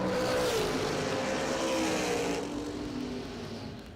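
Bracket-style drag racing car launching off the line in the right lane with a big wheelie, a loud high-revving engine roar that climbs in pitch and then eases as the car pulls away down the strip.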